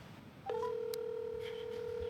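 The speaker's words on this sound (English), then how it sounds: "We get a sound. It's ringing." A Wi-Fi phone call connects with a few short dial beeps, then a steady electronic ringback tone holds clearly and evenly to the end, with no voices.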